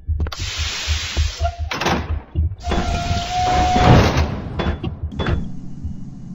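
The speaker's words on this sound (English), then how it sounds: "Stop messing with the doors!" Heavy mechanical facility doors in the video game SCP Containment Breach sliding open and shut several times in a row, each a loud whooshing grind ending in a thud, with a steady low rhythmic hum underneath.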